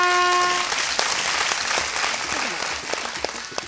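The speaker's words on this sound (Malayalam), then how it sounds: "ഞാൻ കൈയടിച്ച് എന്തിനാന്നറിയോ?" Hand claps rattle in a dense, steady burst during a blindfolded pyramid-building game, opening with a brief held tone and thinning slightly toward the end, with faint voices underneath.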